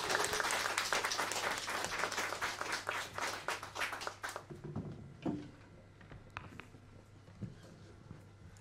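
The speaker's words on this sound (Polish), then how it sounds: "Gorące brawa." A folk-music gala concert and award ceremony audience claps heartily for several seconds, a dense roar of hands that then thins and dies away into a few scattered claps and a faint voice.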